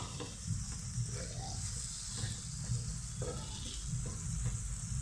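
Tomato chutney with a little sugar and salt being mixed in a pan, producing soft continuous stirring and light sizzling at low level, no one speaking.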